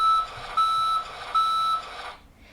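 Reversing alarm on a cement mixer truck: three evenly spaced electronic beeps, loud and near, each held for about half a second, then quiet.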